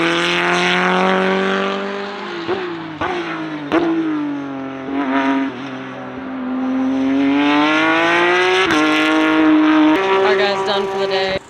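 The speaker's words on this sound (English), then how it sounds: "little Mazda Miata engine, 4-banger powering this thing" A race car powered by a small Mazda Miata four-cylinder engine howls loudly on a track day circuit, holding a sustained high note with brief gear-shift dips and rising pulls, up close and continuous.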